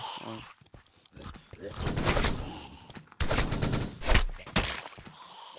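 Gunshots aimed at zombies in a survival video game, a series of sharp, loud shots in two clusters with rumbling action between them, mixed with game ambience.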